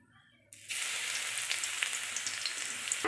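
Thinly sliced boiled flat beans hit a hot pan for frying: after half a second of near silence, a sudden loud sizzle rises and holds as a steady close hiss to the end, with no talking.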